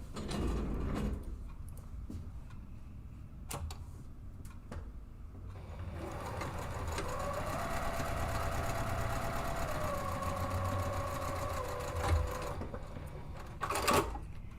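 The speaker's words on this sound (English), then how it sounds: "I just line up those edges and then I stitch again seam to seam" A sewing machine stitches seam to seam on a two-way divided fabric caddy. Its motor whirs in a steady run of rapid stitching, set between quieter handling sounds and a few sharp clicks.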